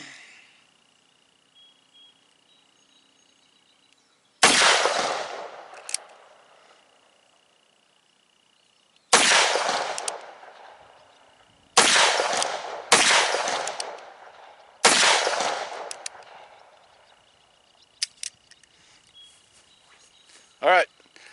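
.44 Magnum shots ring out through electronic hearing-protection earmuffs: about six sharp, loud reports spaced several seconds apart, each clipped short and followed by a fading tail, with a faint steady electronic whine in the quiet gaps.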